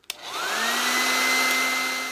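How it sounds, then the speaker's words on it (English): A handheld hair dryer clicks on and runs in a steady, loud whirring blow, held close while heating an eyelash curler, with no talking. "I heat up my eyelash curler with a hairdryer"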